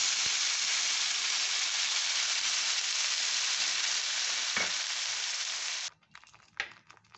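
Loud, steady sizzling of ground momo chutney paste frying in hot oil in a pan fills most of the clip, then drops away to quieter clatter and stirring.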